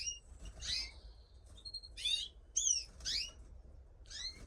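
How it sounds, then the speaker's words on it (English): Pet cock bird, one of a 2023 lot carrying pied, sings a series of bright chirps and warbling tweets at intervals, close and clear over a low background rumble. "Beautiful bird."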